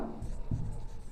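Chalk or pen writing on a board during a chemistry class, short scratchy strokes with a brief firmer tap midway, quiet and close.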